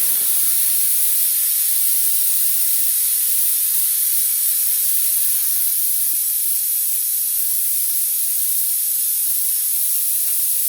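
A steady hiss of air and brake fluid escapes as the rear brake bleeder on a Janus Halcyon 250 motorcycle is cracked open, a continuous close, even spray sound with no talk.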